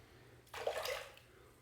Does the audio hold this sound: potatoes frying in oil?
no